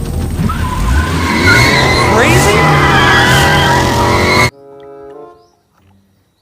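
A red Lightning McQueen toy race car plays a loud, busy run of car sound effects with revving and skidding tire squeals for about four seconds, then cuts off abruptly, leaving brief faint electronic tones and a short spoken word.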